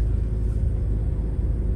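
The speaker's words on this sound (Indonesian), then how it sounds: "Kalau didengar dari noise-nya di alat rekaman kita itu masih ada suara mesin yang masuk" Engine and road rumble of a Toyota Yaris Cross Hybrid heard from inside the cabin in slow traffic, a steady low drone with no talking.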